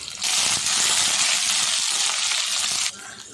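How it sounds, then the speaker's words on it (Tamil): Chopped green chilies hit hot oil with a sudden loud, steady sizzle that lasts a few seconds and then cuts off abruptly. "பச்சை மிளகா நல்லா எண்ணெயில் பொரிஞ்சிடும்"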